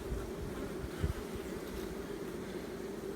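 Honey bees buzzing steadily in a nuc hive during an inspection, a continuous close drone with no talking.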